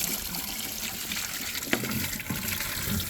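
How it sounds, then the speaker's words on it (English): Water gushes and splashes while a bucket is rinsed out in a yard, a steady pouring flow with a few sharper splashes and sloshes, close by and without voices. "Rinse that off after I rinse this bucket out."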